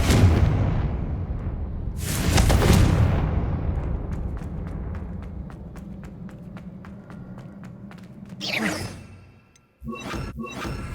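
A Confringo blasting spell is cast in Hogwarts Legacy: a loud fiery burst with an explosive crackle early on, then a rumbling hum, a sharp whooshing blast near the end and a few lighter impacts.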